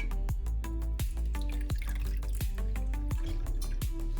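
Juice from pressed grated ginger paste drips steadily into a container, a close series of distinct, regularly spaced liquid plops over a low background hum.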